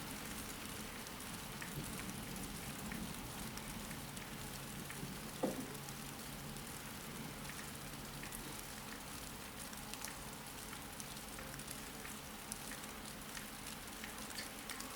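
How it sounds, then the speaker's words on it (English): Steady, dense rain roars throughout, a continuous broadband hiss of heavy downpour with gusty wind, one brief knock partway through. "the wind has ramped up, and it is a nice torrential downpour ongoing"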